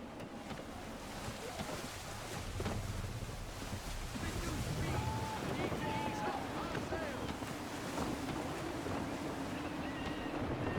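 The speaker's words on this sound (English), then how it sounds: "Gusty winds can be difficult to manage." Gusty wind at sea in Assassin's Creed III, a steady rushing roar with waves and sailing-ship creaks, broad and continuous, with some faint tonal calls midway.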